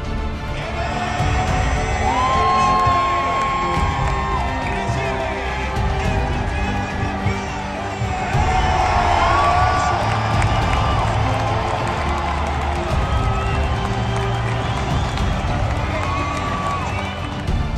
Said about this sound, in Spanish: La afición no cabía de la emoción, cantaba, gritaba y coreaba el nombre de los potros.